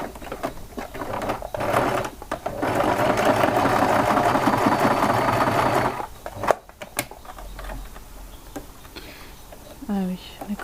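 A sewing machine runs steadily for several seconds while topstitching a flat pouch, a dense mechanical whirr that then stops, followed by a few clicks and handling noises, with speech near the end.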